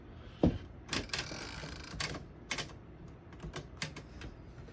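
Irregular keystrikes and clacks on a 1901 Underwood No.5 antique desktop typewriter, close and sharp, with uneven gaps between the strikes.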